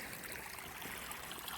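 A wide, shallow creek flowing through a snowy valley gives a soft, continuous trickle and gurgle, faint and even throughout, heard alone with no talking.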